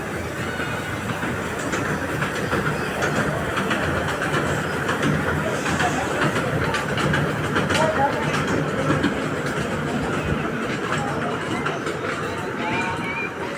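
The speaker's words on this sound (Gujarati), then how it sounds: "ટ્રેન જતી રહી, ઊભી રહી ગઈ." A train runs steadily past for the whole stretch, a continuous rumbling roar with faint rhythmic clatter, loud and near, with voices mixed in under the noise.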